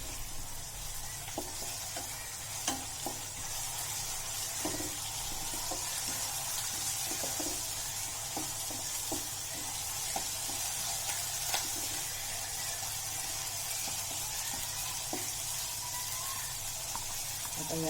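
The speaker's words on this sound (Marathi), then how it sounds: "लसूण अद्रक हिरवी मिरची आणि कोथिंबीरच्या गाड्या त्या आपण टाकूया फोडणीमध्ये" Garlic, ginger, green chili and coriander paste sizzles steadily in hot tempering oil with asafoetida, with a dense continuous crackle broken by small scraping or stirring clicks throughout, and no voices over it.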